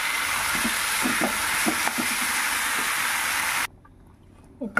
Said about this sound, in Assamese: ইয়াতে এতিয়া কচুখিনি দি দিম